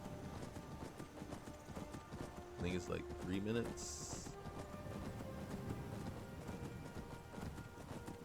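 Horse hooves clip-clop steadily while riding in the Skyrim video game, a continuous rhythmic trotting beat under a man's speech, with a brief whistle-like tone in the middle.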